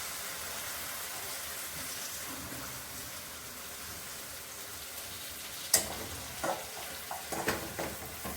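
Cinnamon and spices fry quietly in oil with a soft, steady sizzle, joined near the end by a few sharper clinks and pops.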